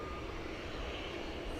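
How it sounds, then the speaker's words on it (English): An American Airlines Airbus A321 jet passes at night at a big airport, a faint, steady broadband engine roar with a thin whine, continuous and distant throughout. "we've got American Flight 1036 coming our way to go to Kansas City, an Airbus A321"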